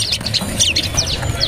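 A perenjak lumut (moss prinia) songbird chirps at a bird market kiosk, giving quick, bright, high-pitched tweets in rapid repeated bursts that sit close and clear over faint background murmur.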